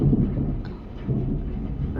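Heavy rain pours steadily with deep, low rumbles of thunder rolling underneath, loud and close, no voices present.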